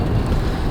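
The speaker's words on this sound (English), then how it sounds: "It's overcast and crazy windy today." Strong gusty wind outdoors on an overcast day by raised garden beds, a loud low buffeting roar across the microphone with no voices.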